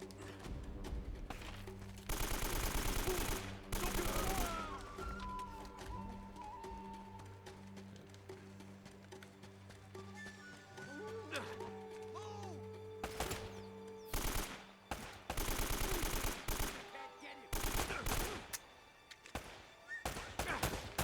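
Rapid bursts of gunfire from the video game Uncharted: Drake's Fortune, loud clustered volleys near the start and again toward the end, with quieter in-game sounds between, and no talk.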